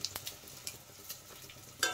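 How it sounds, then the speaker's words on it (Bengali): Dry chilli, bay leaf, cumin and radhuni seeds frying in oil as a tempering for a bottle gourd and fish-head dish, a quiet steady sizzle with a few soft clinks and stirring taps. "ফোড়নটা কিন্তু ভালোভাবে ভাজা হয়ে গেছে"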